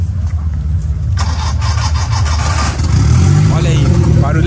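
A turbocharged square-body Volkswagen Gol engine with a straight exhaust cranks and catches, then settles into a loud, rumbling idle that builds slightly toward the end, close by.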